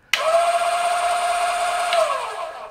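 A Yang-Chia 480N coffee grinder with titanium-coated conical burrs runs empty, starting abruptly into a loud, steady whine with a strained hum that holds for about two seconds and then winds down.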